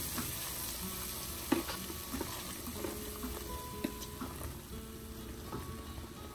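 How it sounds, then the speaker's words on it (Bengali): Red spinach with tiny shrimp being stirred and sautéed in a pan, a steady close sizzle with spoon scrapes and a sharp clink near the start, no voices. "ভালো করে নাড়িয়ে চাড়িয়ে কষিয়ে নিচ্ছে"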